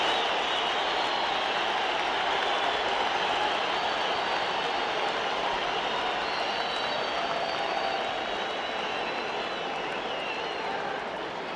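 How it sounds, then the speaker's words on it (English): The crowd at Madison Square Garden in New York awaits the Ali–Frazier fight, a steady dense murmur and roar of thousands of voices and scattered applause holding at an even level throughout. "listen to this crowd at Madison Square Garden in New York"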